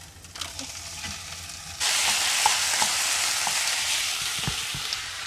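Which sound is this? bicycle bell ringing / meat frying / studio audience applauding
meat frying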